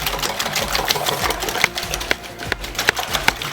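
Egg, Italian seasoning and half and half for a frittata are mixed in a bowl with rapid, close, rhythmic whisking clicks and taps that run steadily throughout.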